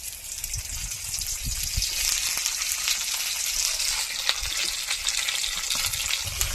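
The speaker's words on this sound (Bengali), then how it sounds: "এবার দিয়ে দেবো বড় বড় করে কেটে রাখা ঝিঙে।" Large pieces of ridge gourd fry in mustard oil in a wok, giving a soft, steady sizzle with occasional crackles and stirring scrapes at low volume, with no talking.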